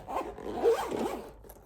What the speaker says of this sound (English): Zip it off.